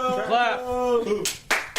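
Three sharp hand claps ring out in quick succession, close and loud, following a stretch of a voice talking.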